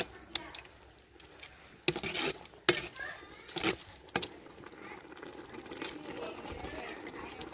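Biryani rice and masala being stirred in a pot with a spoon, giving irregular scraping and clanking strokes, a few sharp knocks early on, then a steady soft churning over a low sizzle.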